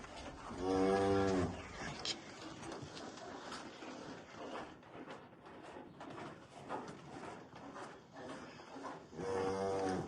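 Swiss dairy cows, recently calved and up for sale in Chuy region, Kyrgyzstan, give two loud close moos, one at the start and one at the end, with farmyard noise and faint talk between them.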